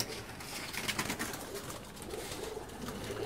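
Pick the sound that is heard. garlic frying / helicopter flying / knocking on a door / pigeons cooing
pigeons cooing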